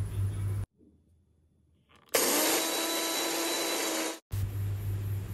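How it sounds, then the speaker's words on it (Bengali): A mixer grinder blends soaked rice with a little water into batter, its loud whirring motor running for about two seconds in one burst between quieter stretches and cutting off sharply. "তো আমি চালগুলো মিক্সিং জারে দিয়েছি।"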